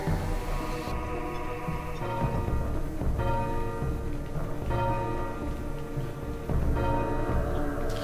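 A bell rung by pulling a chain in the video game Legacy of Kain: Soul Reaver, its sustained metallic tones struck again several times over a dense, continuous game soundscape.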